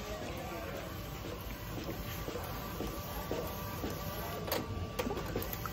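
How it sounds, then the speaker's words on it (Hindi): An L18050 roll sublimation printer runs steadily while printing a lanyard design, a continuous mechanical whir with faint repeating carriage movements and a high electronic whine, moderately close. "मैं भी लैनयार्ड का जो फाइल था वो प्रिंट करने को शुरू कर रहा हूँ।"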